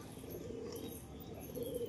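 A female Giribaz-line pigeon at a pigeon sale coos softly and continuously, faint and low against a steady background hum, with no voices.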